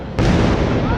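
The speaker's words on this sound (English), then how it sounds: "I mean, it's explosions. What do you expect?" Fireworks at a summer city display burst in a dense, loud, continuous barrage, booming and crackling close by after a brief quieter moment.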